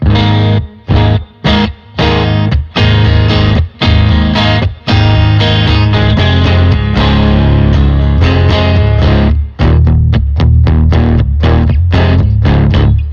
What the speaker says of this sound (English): I like the reverb too.